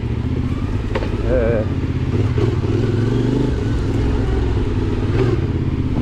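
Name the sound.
CFMOTO Ibex 450 enduro motorcycle riding uphill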